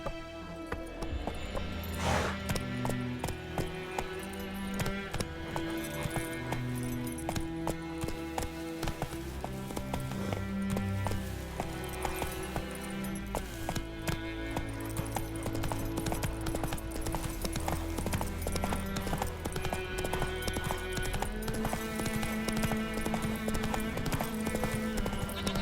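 Roach the horse gallops in a video game, a steady clip-clop of hooves running continuously under a busy, loud musical score throughout.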